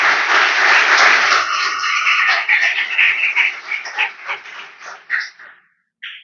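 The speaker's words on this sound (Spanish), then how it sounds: "Dale ese fuerte aplauso al Señor" Congregation at a Christian church service applauding loudly for the Lord, a dense wash of clapping that holds strong then thins out and fades over about six seconds.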